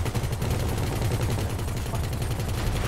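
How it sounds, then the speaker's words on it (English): Continuous video game gunfire, rapid automatic shots packed tightly together and held at a steady loud level from start to finish with no pauses. "Two fucking shots."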